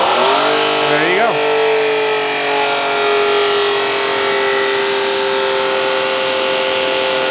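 A first-of-its-kind electric battery-pack pressure washer runs with a steady, loud motor hum and sustained tonal whine that rises quickly in pitch at the start, then holds a constant drone.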